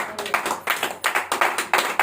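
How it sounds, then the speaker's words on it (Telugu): A church congregation claps in bursts of rhythmic, loud applause, several waves of hand claps rising and fading, with no talk over them. "చప్పట్లు కొట్టండి"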